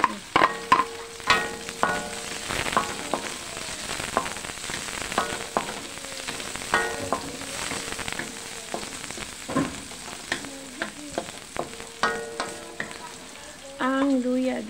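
Onions sautéing in a pan for batchoy, a continuous sizzle under frequent scraping and clinking of a utensil stirring against the pan, close and fairly loud throughout.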